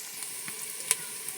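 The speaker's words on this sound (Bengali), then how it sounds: "পেঁয়াজটা ভাজি হয়ে আসছে" Onion frying in a pan with cumin, garlic and ginger pastes and two bay leaves, a steady quiet sizzle with a few soft stirring taps and one sharper clink.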